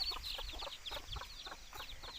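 Chickens clucking in a vegetable garden, a quick run of soft, rhythmic clucks, fairly close but faint, over quiet outdoor background.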